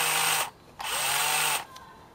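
A cordless drill with a weakening battery bores at slow speed into rusty screws on a brake rotor, giving two loud, whining bursts separated by a short pause.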